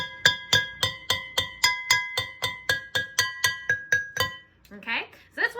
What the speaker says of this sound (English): If you get two things to kind of tap it with, you can make two pitches at once.